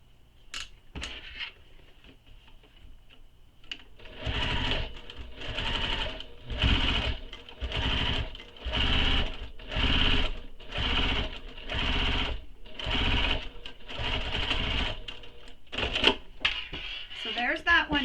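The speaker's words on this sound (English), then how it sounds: "Now we're going to top stitch this with the seam allowance given in the pattern." A sewing machine top stitches a handbag lining in a dozen or so short, even bursts of fast whirring, each separated by brief pauses, after a few quiet clicks of fabric handling; a voice is heard faintly near the start and end.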